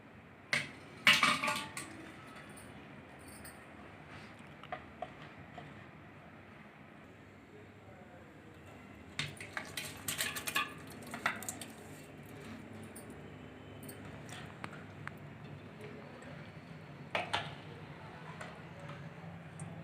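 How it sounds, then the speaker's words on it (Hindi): Sliced mango pickle mixed in oil being slid off a plate into a ceramic jar, with faint scattered clinks and taps of plate against jar among quiet handling noise, some louder clusters near the start and middle. "ये देखिए, प्लेट की मदद से मर्तमान में डालेंगे।"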